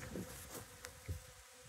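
Bees buzz inside a car, drawn to honey spilled from a pot, a soft, close droning hum with individual insects drifting past, and no voices.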